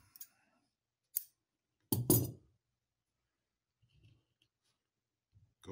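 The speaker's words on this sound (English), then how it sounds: "Take your scissors, cut your thread." Scissors snip beading thread in a few quiet, close cuts. There are two brief clicks, then a longer crisp double snip, followed by faint handling noises against near silence.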